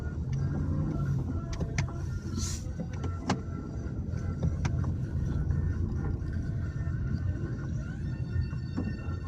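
Street traffic rumbles steadily close by, a constant low roar of passing vehicles with scattered clicks and a brief higher whine near the start.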